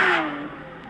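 A 2018 Porsche 911 GT3 with a six-speed manual gearbox revs hard, then its engine note falls away in a sharp, loud decay over about a second, with no voices.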